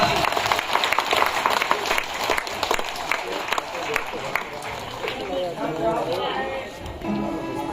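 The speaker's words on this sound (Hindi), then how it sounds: "जोरदार ताली" Applause from the audience at a Bhagavat Katha religious discourse, a dense, steady patter of many hands clapping close by, with voices talking over it throughout.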